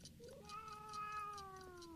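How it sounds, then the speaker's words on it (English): A cat gives one drawn-out, falling meow close by, faint and alone against a quiet room with soft ticking in the background. "Is that you, Puss? Kitty?"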